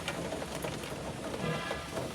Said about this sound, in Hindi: कल भी बड़े जोर की बारिश है जनाब आज भी बारिश